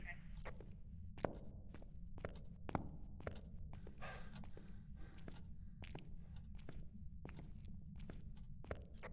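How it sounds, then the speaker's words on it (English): Footsteps in the ghost-hunting video game Phasmophobia thud in a steady run of sharp, fairly close steps over a constant low hum, with a faint voice now and then. "I can hear your footsteps above me."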